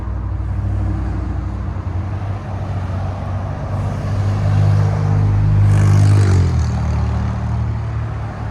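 A deep 6.2L V8 exhaust rumble from a 2023 Cadillac Escalade with a Borla S-Type exhaust swells loudly as it accelerates, then eases off, over steady road noise.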